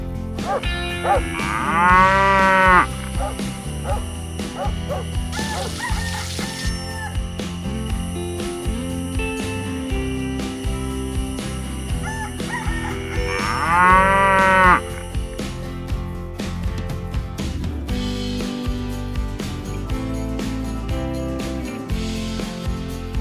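Cows moo on a small mixed farm that also keeps goats, chickens, ducks and fish, with several long, loud lowing calls that rise and fall over a steady murmur of farmyard sound.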